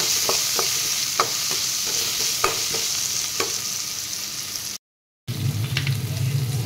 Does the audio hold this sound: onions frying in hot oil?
yes